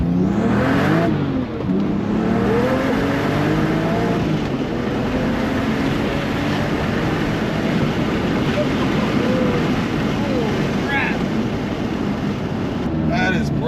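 A Porsche fitted with a Valvetronic exhaust revs and pulls away, engine note rising and falling in loud sweeps close by, with a continuous roar under intermittent talk.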